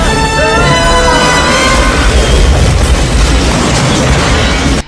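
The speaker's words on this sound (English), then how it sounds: "when the torpedo explodes" A torpedo blows up in the film Deep Rising, a loud, close, rumbling boom with a ringing edge at first, then a roaring rush of debris that fills the whole few seconds.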